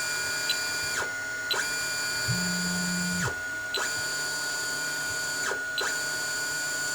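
Anycubic Mega 3D printer raising its Z-axis, a steady mechanical stepper-motor whine with repeated pulsing ratchet-like clicks and sweeping tones, close and clear with no talking.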